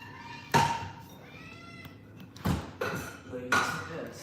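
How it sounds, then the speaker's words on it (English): Cats let out several loud, drawn-out meows in separate bursts, with quiet gaps between the cries. "my cats are going crazy. It sounds like they're about to die."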